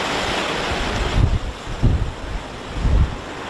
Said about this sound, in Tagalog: Grabe pa naman yung alon doon.